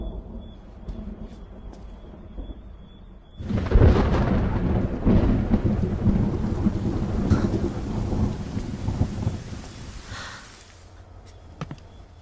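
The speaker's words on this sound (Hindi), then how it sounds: "बारिश भी तुम्हारी तरह है, एकदम से नहीं बरसती, गरज कर बरसती है।" Loud thunder rumbles over heavy rain, beginning abruptly after a few quieter seconds and rolling on steadily before easing toward the end.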